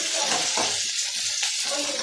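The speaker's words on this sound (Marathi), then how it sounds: "गरम पाणी केलं पाण्याला उकळी आली" Water bubbles and hisses steadily in a pot, a close, continuous churning sound.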